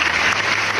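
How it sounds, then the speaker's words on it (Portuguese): Applause from a podcast audience marking a new baby's birth, a steady dense patter of clapping filling the short moment with no break. "Mais palmas, Rafa."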